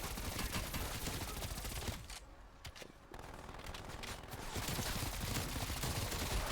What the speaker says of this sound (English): As you can see a mangler there. You see him charging up his weapon.